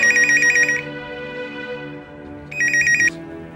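A telephone ringing in two electronic bursts, each about half a second long and separated by a longer gap, loud against a soft background of sustained music.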